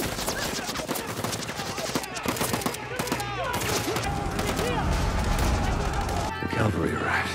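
Gunfire from the action film Sniper: The Last Stand: dense, overlapping volleys of shots crackle continuously throughout a battle scene, with voices heard over the shooting.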